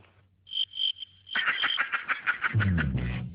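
Crickets chirping in a TV advert, a steady high trill that starts in short bursts then becomes continuous, with a lower croaking layer joining near the end.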